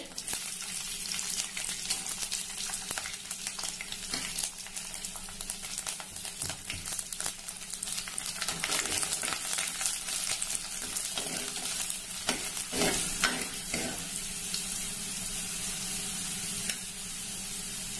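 Curry leaves and garlic frying in hot oil for a Tamil sundakkai kuzhambu, a steady close sizzle with crackling spatters that swell briefly midway, no voices.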